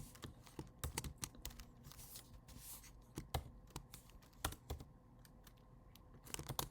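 Quiet, close keyboard typing: irregular bursts of key clicks with short pauses, alone in a faint room hush.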